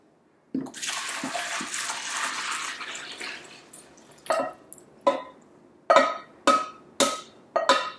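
Laundry liquid concentrate pours steadily into a bucket for a few seconds, then trails off into a series of loud, separate splashes and drips.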